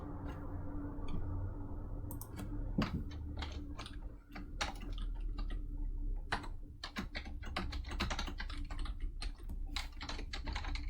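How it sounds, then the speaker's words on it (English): A computer keyboard being typed on close by, with rapid irregular clicking bursts over a steady low room hum and no voice. "So let me just type this function here."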